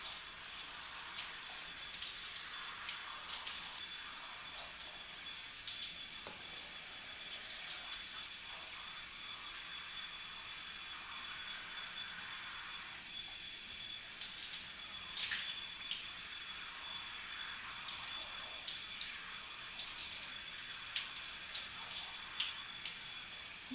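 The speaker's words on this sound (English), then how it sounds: "You'll know when to stop rinsing when you don't feel that slimy, slippery feel quite as strong" Running water rinses conditioner out of hair at a sink or tap, a steady close splashing flow with soft shifting gurgles as the hair is moved under the stream, heard alone throughout.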